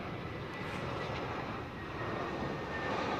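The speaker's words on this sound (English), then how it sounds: "747s facing us here, going out 27 right, starting up" Boeing 747 engines spool up at Heathrow as the jets face out toward runway 27 right, a broad steady roar with a faint rising whine, continuous and moderately distant, no voices over it.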